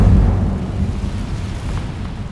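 An Incendio fire spell cast in Hogwarts Legacy gives a loud, deep eruptive burst that fades into a rumbling, crackling roar over a couple of seconds, close and without any voices.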